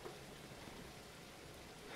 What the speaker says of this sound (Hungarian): Hogy esik az eső, milyen hangja van